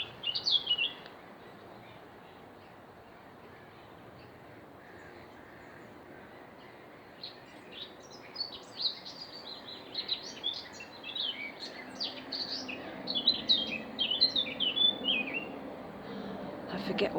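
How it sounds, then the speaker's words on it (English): A blackcap sings in a bush along the Longdendale Trail. Thin, rapid warbling phrases and chirps start about halfway through, fairly faint over a steady outdoor hush. "I forget what an amazing song blackcaps have."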